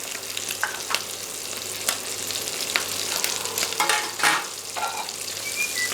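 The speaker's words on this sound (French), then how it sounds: "Et on attend de bien faire dorer les morceaux." Pieces of guinea fowl brown skin-side down in a frying pan, giving a steady crackling sizzle with sharper spits and pops scattered across the whole span; no one speaks.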